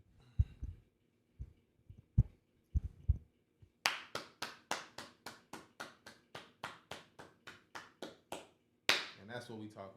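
A few people clapping at a live talk show called The HotSpot, starting as sparse scattered claps, then a steady run of roughly twenty sharp, close claps at an even pace, ending in a brief louder burst.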